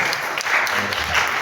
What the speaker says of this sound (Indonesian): Tepuk tangan tuh Bapak ini.